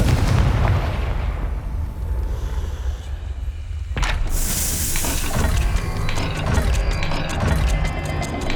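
A Confringo fire spell bursts in Hogwarts Legacy as a sharp, loud explosive crack at about four seconds, followed by crackling and rumbling debris amid game ambience.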